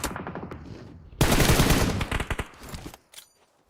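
Heavy automatic gunfire in the mobile battle-royale game PUBG Mobile during a professional esports league match: a dense, loud burst of rapid shots, then scattered quicker cracks fading toward the end, with no talk over it.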